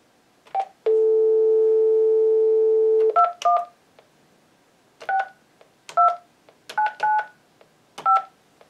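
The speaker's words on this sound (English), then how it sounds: "So now I'm going to make a phone call." Touch-tone dialing on a phone connected through a VoIP adapter: a sustained dial tone, then a series of short dual-tone key beeps spaced irregularly, loud and clear against near silence.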